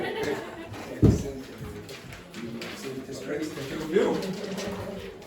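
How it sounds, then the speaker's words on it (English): Birds cooing in recorded audio played back in a classroom, a few soft low coos over room noise and speech. "birds. There we go."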